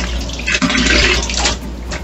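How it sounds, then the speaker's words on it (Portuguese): Laundry soap dissolving as it is stirred into water for a stain-removal wash, a steady loud sloshing and swirling of liquid throughout, with no talk. "E a gente vai dissolver esse sabão na água"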